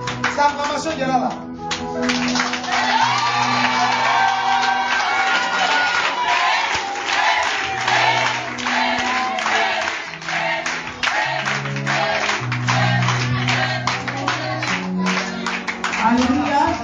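A church congregation cheers and applauds through a worship service, loud and continuous for the whole stretch, with crowd voices and sustained musical tones blended into the clapping.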